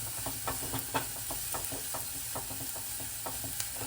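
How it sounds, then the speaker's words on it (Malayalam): Vegetables sautéing with spices in a pan while preparing tomato rice and thoran for lunch, a steady close sizzle broken by frequent light clicks of a spoon stirring against the pan. "അതും കൂടി നന്നായിട്ടൊന്ന് ചേർത്തെടുത്ത് വഴറ്റി അതിൻ്റെ പച്ചച്ചുവ മാറുന്നതിന് വഴറ്റാം"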